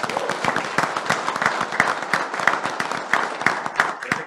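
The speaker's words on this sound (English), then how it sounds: "let's give him a big round of applause." Applause from the audience at a city commission meeting in San Juan: dense, steady clapping fills the room at even strength from start to finish, with no talk over it.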